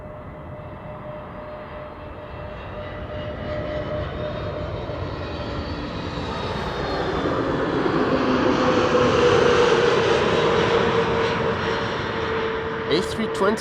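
An Airbus A320neo airliner arriving from London Luton lands at Amsterdam Schiphol, its engine roar swelling steadily from faint to loud and peaking near the end, with talk under the noise.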